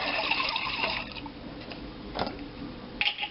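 A little water is poured into a jar of tikka masala sauce, a close, gurgling splash at the start that fades into quiet sloshing, with a couple of brief knocks and a final splash.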